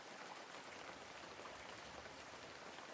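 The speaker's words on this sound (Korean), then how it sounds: "갑자기 비가 내리는 겁니다." Steady, even rain pours down on a remote, winding mountain road in mid-October, a dense unbroken hiss that stays constant throughout with no voices.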